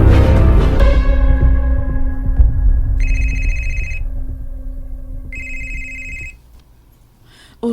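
A telephone rings loud and close in two electronic trilling bursts about a second long each, over a sustained fading musical chord, then goes quiet.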